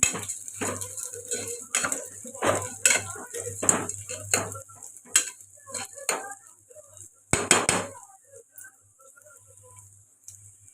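Dal frying in a pan is stirred with a metal spoon, giving a run of sharp scraping clinks and knocks against the pan, close, busy for about eight seconds then tapering to faint sounds.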